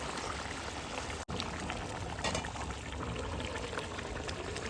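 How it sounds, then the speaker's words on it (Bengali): Fried chicken pieces going into a pot of chicken biryani, a continuous close sizzle and bubbling hiss with a brief dropout partway through. "তো এবার আমি ভেজে রাখা চিকেনগুলো দিয়ে দেবো একটা একটা করে"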